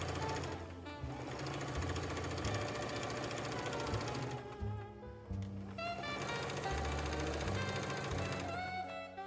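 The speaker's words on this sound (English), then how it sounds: "I've sewn 2 strips together." A sewing machine stitches strips of fabric together for a sock pillow, running in a steady, close, continuous whir with brief pauses and restarts as the fabric is fed through.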